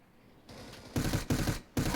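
Gunfire in a competitive video game match fired through a wall: three sharp, loud bursts of shots in quick succession, each a short rattling volley, with a quieter lead-in before the first.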